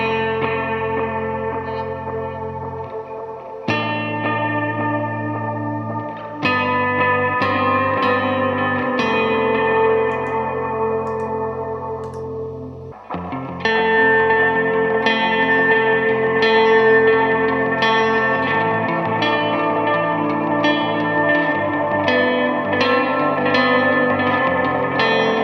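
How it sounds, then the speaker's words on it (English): Sustained tones wash together under maximum reverb with the wet mix turned up, each new chord blooming into a long shimmering tail with echo and chorus-like smearing, loud and continuous with no talking. "So we've got maximum reverb on now, we're going to just increase the mix a little bit."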